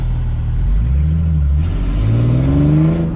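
A repaired car engine revs hard while the car is driving, a loud, close, rising roar with climbing pitch sweeps as it accelerates, alone without talk.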